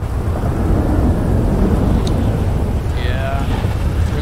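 Steady heavy rain hisses loudly over a construction site, a constant wash of noise, with faint background sounds and no clear talk.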